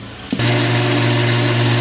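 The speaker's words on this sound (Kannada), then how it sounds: "ಮಿಕ್ಸಿ ಮಾಡ್ಕೊಳ್ಬೇಕು" A kitchen mixer grinder switches on after a brief quiet moment and grinds roasted peanuts and poppy seeds, settling into a loud, steady high whir that runs to the end.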